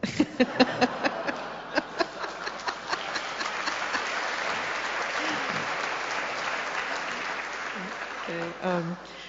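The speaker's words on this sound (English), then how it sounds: "Interesting that you would applaud that" An audience at a live spiritual talk breaks into applause, opening with a few sharp, distinct claps that blend into a dense, sustained round before it thins out and a voice begins speaking near the end.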